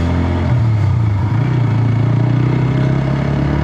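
A TVS Apache RTR FI ABS 4V special edition motorcycle engine running steadily, a loud, close, even drone with a low throbbing hum and no voices.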